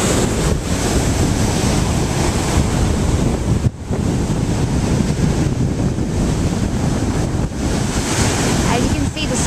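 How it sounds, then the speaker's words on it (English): Surf rolls onto the sand at Perdido Key beach on a bright day with slightly raised waves, a constant loud wash of breaking water heavily mixed with wind buffeting the microphone, one brief dropout midway. "As you can see, the surf's up a little bit."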